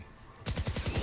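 Rapid burst of fire from the RATATAT gun in Fortnite Save the World, starting abruptly after a quiet moment: five or six fast, punchy shots in an even rhythm, loud and close.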